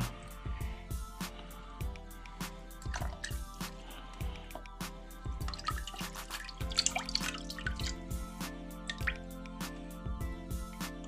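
Seawater is poured over sea urchins to rinse them, giving close, quiet drips and splashes with liquid trickling in an irregular rhythm of small wet hits.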